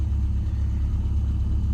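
A car engine runs steadily while driving, giving a continuous low rumble close by with no speech over it.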